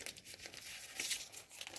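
Crinkling of a paper surprise packet being opened, a continuous close-up rustle and crumple with a brief tearing burst midway, alone without talk.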